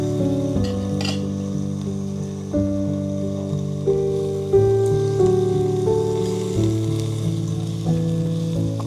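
Food sizzles and fries in a pan during a Japanese kaiseki meal, a loud steady crackle with tonal clinks, no talking.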